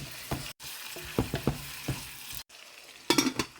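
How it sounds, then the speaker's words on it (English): Onions sautéing in a frying pan until golden brown, with short sizzling bursts and spatula stirs scraping the pan in an uneven rhythm. "I'm just gonna saute my onions till they're also golden brown"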